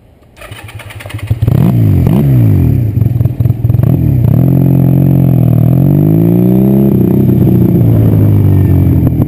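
Honda Rebel bobber motorcycle on a freeway, its engine starting up then droning loud and steady up close, with rising revs through gear changes and continuous wind-blown roar.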